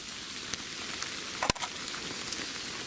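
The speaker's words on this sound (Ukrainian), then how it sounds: "Дощик іде, але то нам не заважає" Light rain falls in a forest during mushroom picking, a soft, steady patter under a few sharper drips and one louder knock midway.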